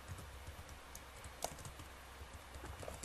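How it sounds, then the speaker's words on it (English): Faint, scattered keystrokes on a computer keyboard, soft and distant, with one slightly sharper key press in the middle. "I'm going to type that for you."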